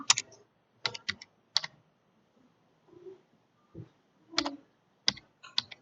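Keys tapped on a computer keyboard while entering a database field name: a few quiet, close clusters of clicks separated by short pauses, with no speech.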